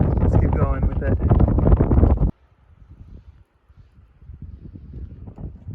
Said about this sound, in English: the winds are gusting quite hard up here still